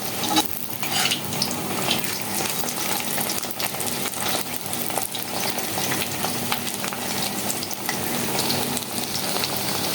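Ash gourd leaves frying in oil in an iron wok: a steady, dense sizzle with crackling oil, constant and fairly loud throughout, without talk.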